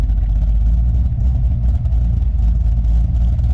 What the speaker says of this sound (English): And so here's the Cadillac. Doing a little idle hunting right now.